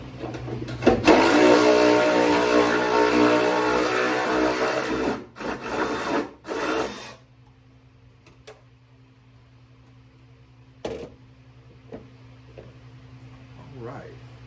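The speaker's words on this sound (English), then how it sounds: "last bolt and the whole fender comes off" A power tool buzzes loudly for several seconds while the last fender bolt is backed out, stops and starts briefly, then gives way to quiet metallic clicks and handling sounds.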